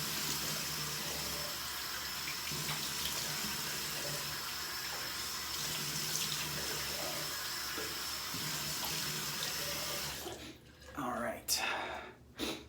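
Hot water runs steadily from a bathroom tap into a sink, a continuous splashing hiss under a man's speech, then breaks into uneven splashes as hands scoop it toward the face.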